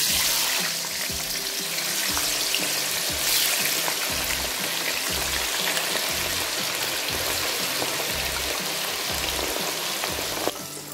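Spices fry in a pan for white sauce pasta with a loud, steady hissing sizzle and a rhythmic scraping of stirring underneath, close and continuous with no talk.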